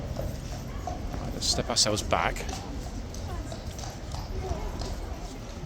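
Horse hooves clip-clop at Horse Guards in London, with a Household Cavalry mount moving on a wind-blown, dusty parade ground while people talk over the steady hoofbeats.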